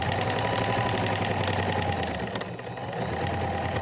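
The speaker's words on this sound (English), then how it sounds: "And then I'm going to start sewing down." Sewing machine stitching a cotton face mask with a fabric pocket and elastic bands, a steady fast whirring motor with dense rapid needle clatter running continuously and close, easing briefly before resuming.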